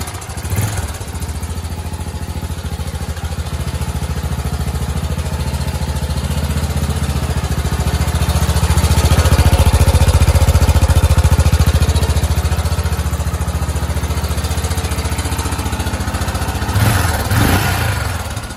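A Yamaha SRX600 motorcycle engine runs steadily at idle with a dense low rumble and mechanical clatter, swelling slightly louder midway before settling, close and continuous with no talking.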